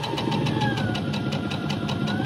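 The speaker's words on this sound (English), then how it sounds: "now it's time to try out my new sewing machine for the first time" A Baby Lock Verve sewing machine stitching fabric scraps runs at a steady, fast mechanical hum with a rapid regular needle beat, close and continuous, without talk.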